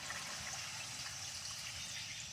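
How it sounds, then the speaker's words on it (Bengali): Water poured into a pot of simmering village-style biryani masala, a faint steady rushing trickle with no break for the whole moment. "এখন আমি কিছুটা জল দিয়ে দেবো খুব বেশি জল দেবো না"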